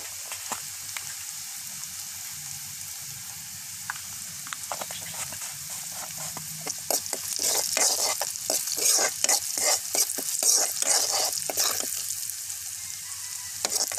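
Green vegetables frying in a pan: a soft constant sizzle broken by a run of sharp, close clattering stirs and scrapes in the middle stretch, then calmer frying, with no voices.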